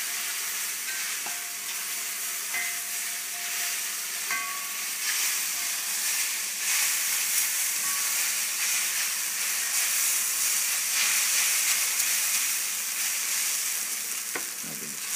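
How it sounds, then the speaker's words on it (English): Wild mushroom ramen noodles with scallions stir-fry in a hot pan, giving a loud, continuous frying sizzle and hiss with scattered soft scrapes of stirring over about fifteen seconds. "Give it a stir."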